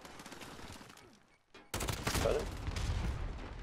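Rapid bursts of automatic gunfire from an AR-type rifle in a multiplayer shooter video game, quiet at first, then loud and dense continuous firing in the second half.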